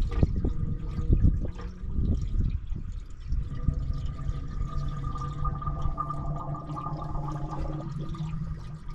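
Gasoline glugs and gurgles steadily into a motorbike's gas tank, a close, continuous pour with bubbling churn throughout and no voices.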